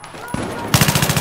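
Rapid automatic gunfire from the Xbox 360 game Battlefield 3 rattles off in a quick even string of shots after a single earlier bang, brief and fairly loud over game background.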